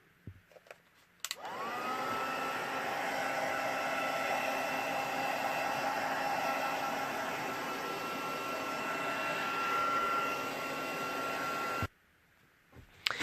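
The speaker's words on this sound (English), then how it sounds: "I'm just going to grab my heat tool and give that a blast" A handheld heat tool blows steadily to dry watercolour on cardstock, a loud continuous whooshing drone with a faint whine that starts abruptly, holds for about ten seconds and cuts off, alone with no talk.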